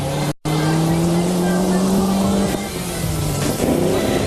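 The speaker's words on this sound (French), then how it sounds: "Les premières voitures à partir sont les Mitsubishi" Mitsubishi rally cars setting off at the 1989 Rally of Tunisia, a loud steady engine drone with rising revs and tire noise, close and continuous throughout.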